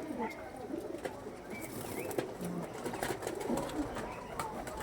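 Pigeons with deep purple feet coo softly in a loft, low repeated throaty calls under a steady background rustle, with no talking.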